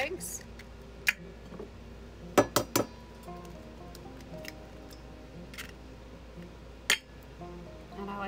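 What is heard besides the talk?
cracking two eggs into a bowl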